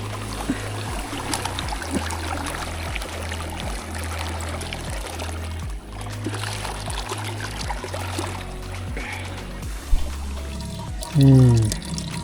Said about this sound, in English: I'm gonna filter some water here.